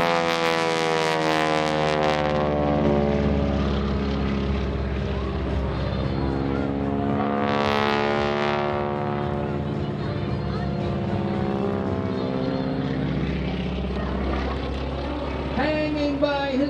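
A propeller airplane engine drones loud and steady as the plane dives for a loop during a wingwalking routine at an air show, its pitch rising and falling through the manoeuvre with wind noise throughout.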